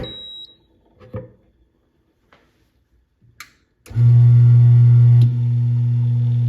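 A Mythos Clima Pro coffee grinder switches on after a few quiet clicks and handling noises, then runs with a loud, steady motor hum that drops slightly in level near the end.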